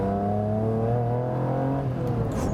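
A Noble M400 sports car accelerates hard, its engine note climbing steadily in pitch as it revs up, loud and close throughout with no talk over it.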